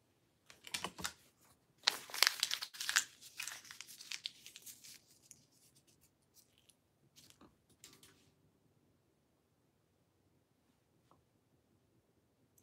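Pieces of paper being crumpled and torn up close, a burst of crisp ripping and crinkling that thins into scattered rustles and then falls into near silence.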